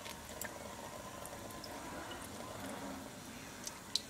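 Shower water runs steadily onto a cat named Mo, a soft continuous hiss and patter with a few faint splashes and bumps, quiet and close.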